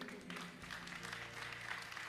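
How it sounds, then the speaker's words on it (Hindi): Steady audience applause at a talk by Uma Lahari, a faint continuous wash of clapping held throughout with a low hum underneath. "तालियां बजनी चाहिए"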